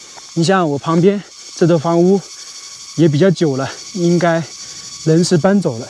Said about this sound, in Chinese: 然后这道路两边这个树林上面很多知了在叫啊。